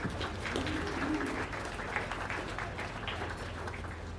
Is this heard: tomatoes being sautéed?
no